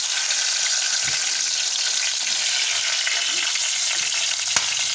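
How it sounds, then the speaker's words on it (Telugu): Chopped tomatoes fry in hot oil in a pan for fried rice, giving a steady, close, loud sizzle that runs unbroken throughout, with occasional faint stirring clicks. "ఆగండి, వేగుతుంది."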